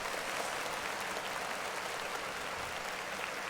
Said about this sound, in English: Clap it up for me.